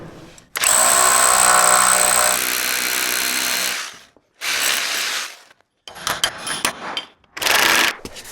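Power drill boring into a concrete slab while interior framing a single-story barndominium: one long grinding, rattling run of about three seconds, then several shorter bursts with brief pauses between them, loud and close, with no talking.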